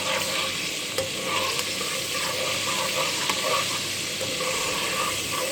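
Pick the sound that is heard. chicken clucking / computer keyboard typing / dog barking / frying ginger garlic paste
frying ginger garlic paste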